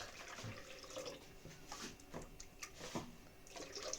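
Water is poured into a food processor bowl that still holds dough traces, a steady close trickle with small splashy drips running throughout.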